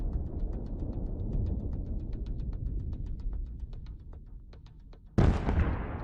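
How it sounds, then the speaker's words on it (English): A tank explodes after a grenade goes off inside it, with a low rumbling roar crackling with sharp pops, then a sudden loud blast near the end. "The grenade explodes inside the tank, causing a fierce fire, which in turn leads to a massive explosion."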